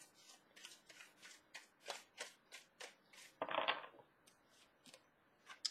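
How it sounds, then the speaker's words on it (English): Soft, rhythmic tarot card flicks repeat about twice a second during shuffling, broken by one brief riffle burst, quiet and close. "One more shuffle."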